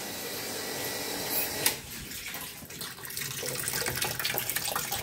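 A manual washing machine drains its water out, a steady close gush and splash of flowing water with a brief knock partway through, no talk.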